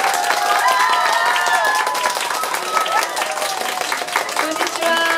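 An audience gives a lively round of clapping to welcome a Taiwanese three-piece band onto a stage, steady and close, with voices and a few cheers mixed in.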